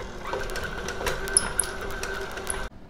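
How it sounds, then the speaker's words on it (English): An electric mixer creams butter and Crisco together in a bowl, giving a steady, faint motor whir with a few light clicks before it stops abruptly near the end. "we're gonna use the electric mixer to cream them together"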